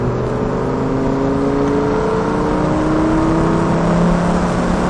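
Lamborghini Gallardo engine pulling hard under full power, a loud, steady rising drone with layered engine tones climbing in pitch, heard close from inside the car with no talking.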